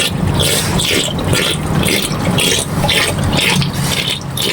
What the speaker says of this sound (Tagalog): Lakas ng tubig na bukal.